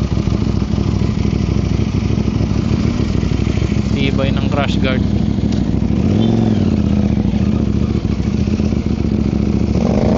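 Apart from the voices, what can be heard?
motorcycle engine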